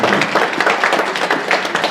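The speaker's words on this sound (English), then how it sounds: "let's give him an acknowledgement and a round of applause" Steady applause from a crowd at a film panel discussion, dense clapping filling the whole stretch at an even, fairly loud level.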